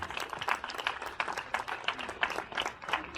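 An audience at an outdoor event in the town of Piscinas claps in thanks, a lively mix of distinct hand claps close by over a fuller crowd applause throughout.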